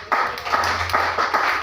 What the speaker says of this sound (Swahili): Haleluya, makofi kwa Yesu